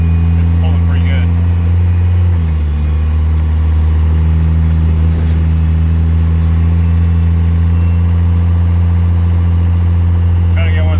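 Cummins diesel truck engine fitted with large 5x.022 injector nozzles, a loud steady low drone heard from inside the cab, the pitch dipping slightly once early on and then holding even.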